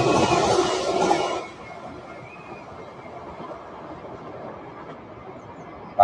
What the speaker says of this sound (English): That is a train that carries lots of stuff for the submarines.